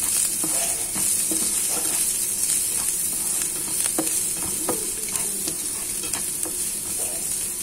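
Garlic and onion frying in a little olive oil, with a steady close sizzle and repeated scrapes and taps of stirring running the whole way through, no voices.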